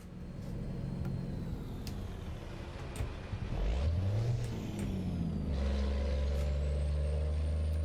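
A heavy truck in American Truck Simulator rumbles along the road, its engine droning low and steady and then revving upward, with an air brake hiss mid-drive and a loud, sustained engine note near the end.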